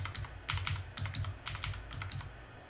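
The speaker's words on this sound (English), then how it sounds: "And to cycle through your Finder tabs, press Command Shift arrow keys." Mac keyboard shortcuts being typed: crisp, close key presses in small clusters of two or three, repeating at a steady pace over a faint background hum, with no voice.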